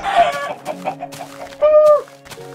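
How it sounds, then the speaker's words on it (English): Chickens clucking in the Minecraft video game, several short bird calls in quick succession with a longer drawn-out cluck near the end, fairly loud and clear with no talk over them. "Ooh, chicken."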